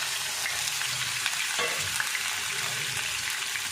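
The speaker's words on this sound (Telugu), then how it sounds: "కొంచెం ఆయిల్ వేసుకుని మనం కట్ చేసి ఉంచుకున్న టమాటా ముక్కలు ఇందులో వేసుకుందాం." Chopped tomatoes dropped into hot oil in a kadai, giving a continuous loud sizzle with a brief stir or splash partway through.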